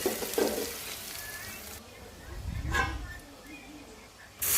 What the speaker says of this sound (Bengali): পেঁয়াজ দিলাম পেঁয়াজটা ভালো করে ভাজবো